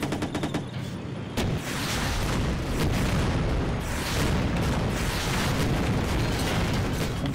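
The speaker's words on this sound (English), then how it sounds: "Our defensive turret is under attack." Heavy explosions and gunfire pound a defensive turret during a tank battle in the Empires mod, a dense, continuous barrage of booms and blasts close by with no pause.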